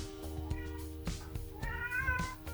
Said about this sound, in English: sorry if you can hear my cat running around in the background